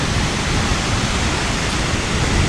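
Manthokha waterfall in Skardu roars in a dense, continuous wash of falling water, loud and close with no break.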